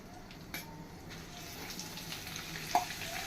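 Spices tempering in hot oil for a mint (pudina) chutney ground on a stone: a faint, steady sizzle with a few soft clicks and one sharper tap near the end, and no voices.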